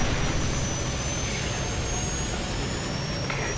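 Helicopter in the Call of Duty Modern Warfare video game, a steady loud rotor and turbine roar with no pauses across the short stretch.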